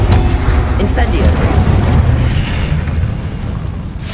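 Spell explosions in the video game Hogwarts Legacy, a loud rolling rumble of booms and bursts that swells and then tapers, dense and continuous with no gaps, close and alone.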